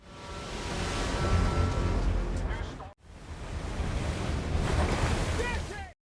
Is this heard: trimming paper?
no